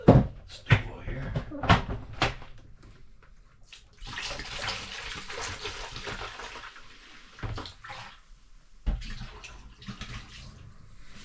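Antifreeze poured into a camper toilet bowl during winterizing, a steady liquid splash lasting several seconds between knocks and clunks of handling, close and moderately loud.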